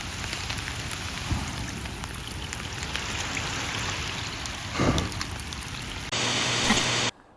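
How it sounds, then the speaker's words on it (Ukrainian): Heavy rain falling during a fishing outing in British Columbia, a dense steady hiss of drops pattering on surfaces nearby, with a brief louder burst near the end. "це вже не жарти, навалює дощик так прямо"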